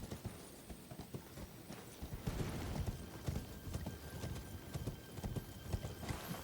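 Horse hooves clip-clopping as a sound effect, a steady series of hollow clopping beats, fairly faint and continuous, with no talking.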